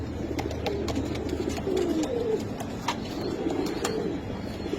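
A pair of pigeons at a pigeon farm coo in low, repeated rolling calls close by, over a busy background of fluttering and clicks, no voices.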